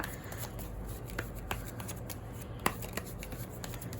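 Oracle cards are shuffled and drawn by hand, giving soft continuous card riffling with a few sharper flicks and snaps. The sound is close and steady, over a low background hum, with no speech.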